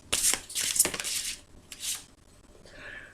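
Soft, quick riffling bursts of oracle cards being shuffled for a tarot reading, several short rubbing swishes close by in a quiet room with no talk.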